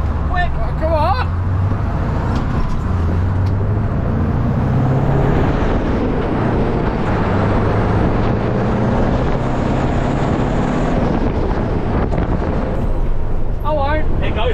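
A very loud truck engine roars continuously with a rising and falling pitch through gear changes, the cab noise heavy and constant, with brief squeaky sounds at the start and end.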